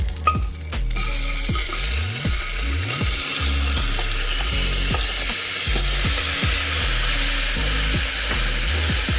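Cardamom, cloves, a cinnamon stick and an inch-long piece of ginger sizzle steadily in a single drop of oil, with repeated scraping strokes of a spoon across the pan throughout and no talking.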